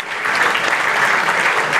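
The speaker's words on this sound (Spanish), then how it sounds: "un aplauso para ustedes también que asistieron" Audience applause at the close of a seminar, a steady, dense wash of many hands clapping continuously at fairly loud level, with no voices breaking through.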